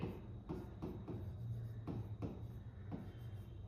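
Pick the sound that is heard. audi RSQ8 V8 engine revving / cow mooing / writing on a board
writing on a board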